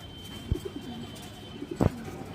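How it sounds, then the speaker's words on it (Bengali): A Gia Mussaldom pigeon coos up close, two short bursts of soft throaty cooing with a pause between, alone with no talking. "পুরো রিং চোখের কবুতর"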